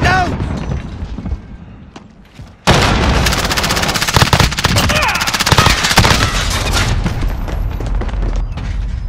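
In Call of Duty Modern Warfare, a brief lull gives way to a heavy grenade blast, followed by sustained, close automatic gunfire with sharp repeated cracks and booms; voices call out over the combat.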